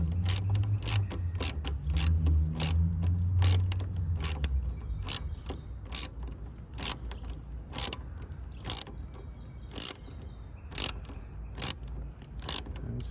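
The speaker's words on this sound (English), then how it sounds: "Get your ratchet." A hand ratchet tightens the battery hold-down nuts on a Honda Acty kei truck, fitted with a lawn tractor battery: a long run of quick, close clicks, sometimes in bursts, over a low engine-like hum, with no talking.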